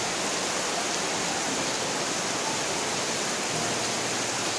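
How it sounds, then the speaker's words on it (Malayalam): Heavy rain pours down steadily on a garden with curry leaf saplings and aglaonema plants, making a dense, continuous hiss that fills the whole stretch without a pause or a voice. "നല്ല മഴ പെയ്യുന്നുണ്ട്."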